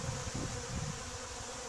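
Honey bees buzz at an open hive during an inspection, a soft steady hum of many wings heard faintly and close, with no voices.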